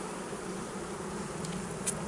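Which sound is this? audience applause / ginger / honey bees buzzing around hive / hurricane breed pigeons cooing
honey bees buzzing around hive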